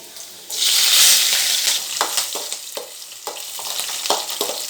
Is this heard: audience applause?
no